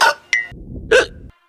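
Several sharp, abrupt human hiccups sound up close, separated by short pauses, with a low muffled background between them.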